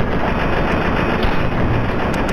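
Automatic gunfire in Fallout 3 rattles on without pause, a loud, dense, continuous burst of rapid shots filling the whole moment.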